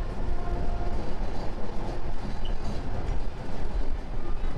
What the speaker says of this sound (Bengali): এখানটাতে এসে ট্রেন একদম স্লো করে দিয়েছে